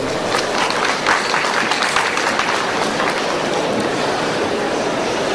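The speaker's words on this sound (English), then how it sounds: "We would appreciate a round of applause." An audience at an enterprise technology conference panel in Mumbai applauds as a panelist is introduced. A dense, even wash of clapping holds steady for about five seconds with no distinct voices.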